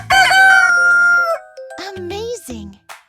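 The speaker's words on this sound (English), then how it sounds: "It's a rooster! Cock-a-doodle-doo!" A rooster crows loudly and close in one long, bright cock-a-doodle-doo, followed by a few shorter, broken calls.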